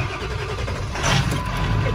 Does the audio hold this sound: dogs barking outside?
no